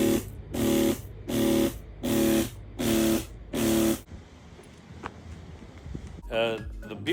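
Pet urine cleaning solution sprayed onto carpet in five loud, evenly spaced hissing bursts from a pump sprayer at close range, followed by quieter handling noises and a brief rustle.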